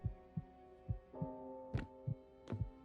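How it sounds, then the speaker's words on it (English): In the horror video game Lovecraft's Untold Stories, a low, steady heartbeat thumps about twice per second as a clear effect over a sustained low hum, with a couple of sharp rising accents. "Hearing a lot of heartbeat."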